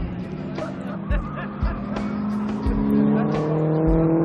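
Opel cars race flat out around the extended Dragon circuit at an Opel club national meet. Engines drone steadily throughout, with repeated swells as cars pass and a commentator talking over them.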